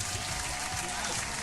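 A small crowd at a lively gathering gives a dense, steady round of applause that fills the whole moment, with some background crowd noise mixed in.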